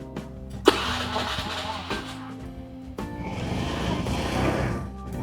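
A car engine cranks on its starter during a battery management system (BMS) test and catches, with one sharp start near the beginning and a second cranking attempt partway through, each settling into a steady running rumble.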